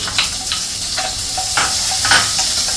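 Onions sizzle and crackle in hot oil, a steady close frying hiss with occasional stirring scrapes.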